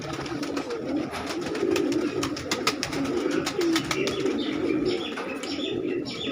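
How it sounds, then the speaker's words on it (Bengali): Many pigeons in a crowded loft give a steady, murmuring coo, with scattered chirps and clicks over a continuous flock sound. "প্রচুর পায়রা আছে"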